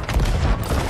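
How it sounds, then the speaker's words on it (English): Cannon fire during a ship battle in the video game Sea of Thieves, a dense run of overlapping booming blasts that roll on without a break, loud and close. "Hit them with cannons."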